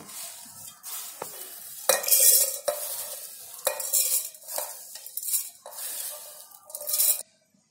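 Chopped onion dry-roasted without oil in a kadhai, stirred with a utensil in repeated loud scraping strokes over a soft sizzle, close up and with no talking.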